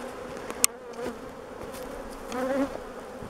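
Honey bees buzz steadily around a freshly split hive nucleus, a soft continuous drone with a few louder passes near the microphone.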